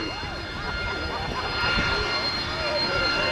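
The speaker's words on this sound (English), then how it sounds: "It's a nice, mean-looking Harrier about to come at you at 200 feet." An AV-8B Harrier II jet at an airshow gives a steady, loud roaring whine that swells slightly, with a public-address voice talking over it.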